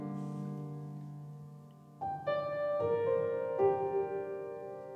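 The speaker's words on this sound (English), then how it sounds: "So this is what the piano is currently sounding like." Piano notes ring out with long hall reverb, a sustained low chord giving way to several separate higher notes whose tails blend into a spacious wash, with no voices.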